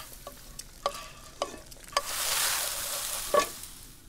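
Scrambled eggs cooking in a pan in The Sims 4, a game kitchen scene: soft sizzling with a brief swell of frying hiss and several light clinks of a utensil stirring against the pan, no voices.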